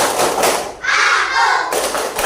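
A group of children performs the 'tepuk anak soleh' clapping chant: a brief flurry of claps followed by a short burst of voices chanting together, close and loud.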